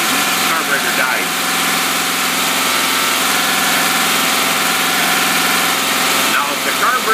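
A boat motor with a two-barrel carburetor runs steadily, a loud continuous engine drone with an even mechanical hum throughout, and someone speaks over it.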